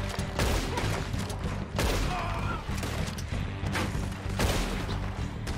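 Gunfire in the video game Red Dead Redemption 2: repeated loud shots and bursts in dense succession, with several strong cracks over a busy, continuous game soundscape.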